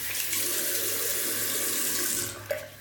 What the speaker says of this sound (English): Quick splash of cold water.